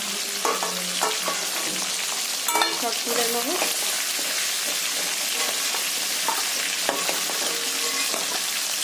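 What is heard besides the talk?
fish head pieces frying in oil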